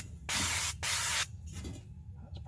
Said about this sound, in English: Spray a little nonstick in there.